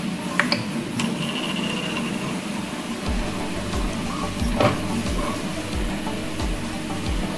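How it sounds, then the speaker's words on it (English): Prusa i3 MK3S+ 3D printer running Z calibration, with steady motor whirring and a regular low pulsing rhythm that begins partway through, plus faint ticks, heard up close with no talk. "I will run Z calibration now."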